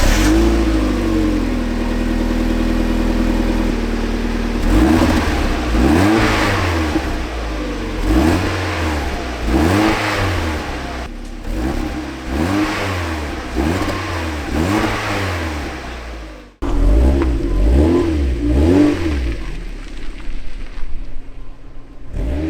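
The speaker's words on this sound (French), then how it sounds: "Je vous laisse avec ce bruit d'échappement fort agréable." A car exhaust fitted with a Driftshop mid-pipe and silencer revs hard in a string of loud, close rising and falling pulls, about half a dozen in a row, with a brief drop near the end before revving resumes.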